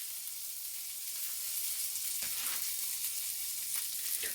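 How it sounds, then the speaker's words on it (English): Lard melting in a heated skillet gives a steady, close hiss of frying that swells slightly and runs on evenly, with faint scraping now and then and no voices. "Get our skillet heated up for our lard."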